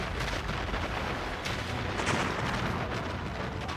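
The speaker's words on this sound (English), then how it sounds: "The explosions rock the neighborhood with the force of a magnitude 7 earthquake." Sewer gas explosions tear through a city neighborhood in a dense, continuous roar of rumbling blasts and cracking booms that stays loud from start to finish.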